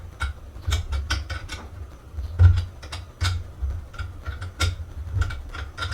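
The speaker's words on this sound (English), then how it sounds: "slowly undo the nut from the back and tighten that, and then crank it down a little bit more" A nut on a monitor stand is undone and tightened by hand, giving a run of sharp, irregular metallic clicks and ticks close up, with no talking.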